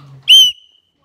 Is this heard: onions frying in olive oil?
no